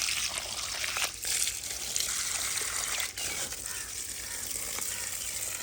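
Water gushes and trickles steadily over a village farm field in Pakistan to irrigate plants and soak in fertilizer, a close, continuous hissing flow with small splashes and no talking.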